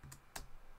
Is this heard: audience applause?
no